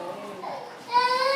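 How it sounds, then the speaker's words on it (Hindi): A baby cries in a hospital children's ward, the wail rising and holding steady in the last half second, with indistinct chatter and other children's voices in the background. "यहाँ भी बच्चा रो रहा है।"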